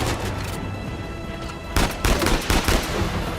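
Gunfire and a missile launch in the Uncharted 4 video game: rapid loud bursts of shots and blasts crackle over a dense, constant battle-noise bed, growing heavier in the second half.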